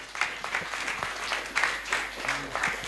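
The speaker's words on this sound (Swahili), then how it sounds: "Makofi mazuri kwa Yesu" A church congregation claps together in a quick, rhythmic patter that stays fairly even throughout, with some voices mixed faintly into the applause.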